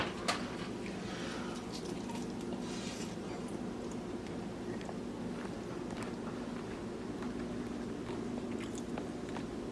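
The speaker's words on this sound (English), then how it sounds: "We're going to do the bite test." Close, soft biting and chewing of Traeger-smoked Eastern North Carolina-style baby back ribs, a quiet run of wet mouth sounds with no talking.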